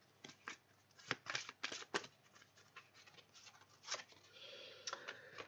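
A deck of cards being cut and shuffled close by, a quick run of crisp riffling snaps and papery flicks with short pauses between bursts, quiet and without talk.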